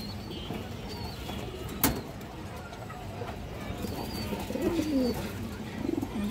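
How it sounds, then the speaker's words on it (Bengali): A female jira-gola pigeon with red eyes coos softly in low, rolling notes. Faint bird chirps and a sharp click sit in the background, and no one speaks. "খুব সুন্দর একটা জিরা গলা মাদি দর্শক, লাল গিয়ারের।"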